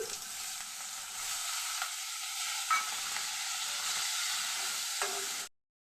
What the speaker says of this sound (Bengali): সেই তেলটার মধ্যে আমি চিংড়ি মাছগুলি দিয়ে দিচ্ছি